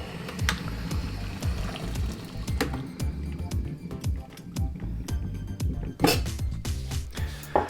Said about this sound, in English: I'm going to add to that a mugful of water.